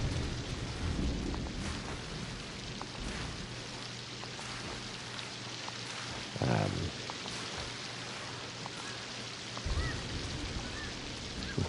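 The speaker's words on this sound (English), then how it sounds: "Oh, here comes the rain." Rain patters steadily in a video game, with a soft rumble of thunder rising briefly partway through and again near the end, while a person talks over it.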